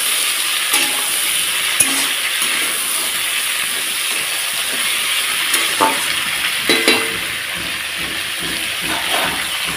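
Okra and vegetable stalks sauté in a hot pan, a loud, continuous sizzle with hissing steam, punctuated by sharp scraping strokes as a spatula stirs them.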